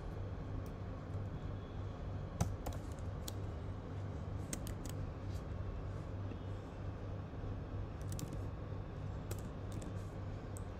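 Soft, scattered key clicks from a computer keyboard during code entry, sounding in short bursts with pauses over a faint steady background hum.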